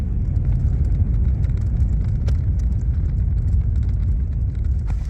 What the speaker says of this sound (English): I'm gonna drop the car here in front of this big tower, and then we're gonna go as far as we can that way